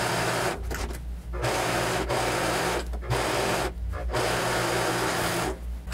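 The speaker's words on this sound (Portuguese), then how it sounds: "eu posso colocar direito com direito e fechar as laterais" A sewing machine closes the side seams of a dress, running in fast buzzing stretches broken by short pauses, close and fairly loud with no talking.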